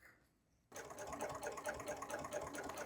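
Sewing machine stitching a rectangle onto a backpack strap, starting abruptly after a quiet moment and running in a steady, fast, close mechanical whir.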